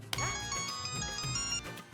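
A mobile phone ringtone plays a bright electronic melody nearby, steady for a couple of seconds before cutting off, with faint room noise beneath.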